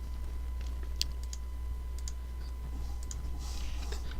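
Sparse, quiet key clicks from typing on a computer keyboard, a few scattered taps followed by a short quick burst near the end, close and faint against a low hum.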